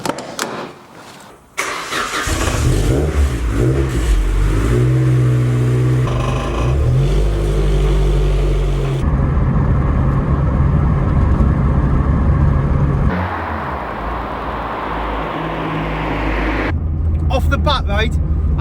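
A lowered Chevrolet Nova fitted with coilovers cranks and starts, idles with a deep rumble, then revs and pulls away. The engine stays loud and close while people talk over it.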